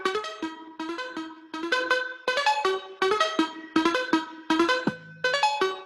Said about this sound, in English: This is the sound of R2-D2, my friends.